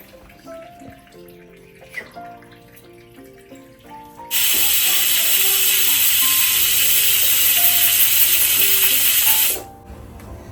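A pressure cooker cooking dal for sambar lets out a sudden loud, steady rush of hissing steam for about five seconds, then cuts off, with quiet kitchen clinks before it.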